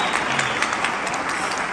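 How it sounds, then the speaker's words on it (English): Audience applause at a Christmas concert in a church-run hall in Brooklyn, a steady full wash of many hands clapping at once, loud and even, with no talk over it. "We'll give them a round of applause."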